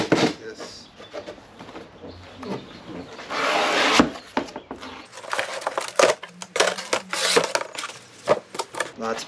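A Kuuma 216 Elite boat and RV gas grill is pulled from its cardboard box and packaging, with close scraping, crinkling plastic, rustling and knocking in irregular bursts, and someone talking throughout.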